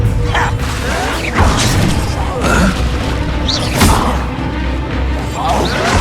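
Spell explosions in Hogwarts Legacy combat, heavy booms and magical whooshes with crashing impacts, mixed with voices and game effects at loud volume.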